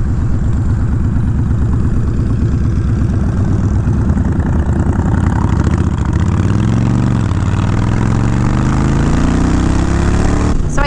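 A 2020 Deluxe motorcycle engine idling, a loud close steady throb with a dense low rumble, joined partway through by a rising engine whine as another machine revs nearby.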